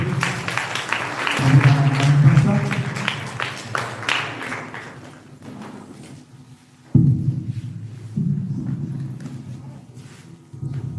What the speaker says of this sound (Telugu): అందరూ ఒకసారి చప్పట్లు కొట్టి